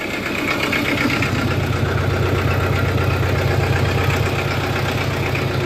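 A steady, throbbing tractor diesel engine idles close by, a low rumbling chug that runs on without a break and with no voices.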